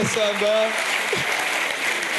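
Audience applauding at an event, a dense steady wash of clapping that runs through the whole moment, with a voice briefly audible at the start.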